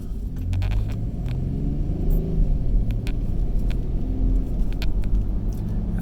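Steady car traffic rumbling along busy Roswell Road in Alpharetta, Georgia, heard from inside a moving vehicle, a continuous low engine and road drone with no talk.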